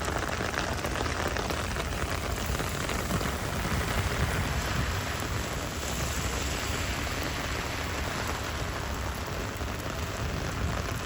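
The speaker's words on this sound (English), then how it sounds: "it was pouring." Heavy rain pours outside a grocery store as a dense, unbroken hiss. The loud wash holds steady throughout, with no voices.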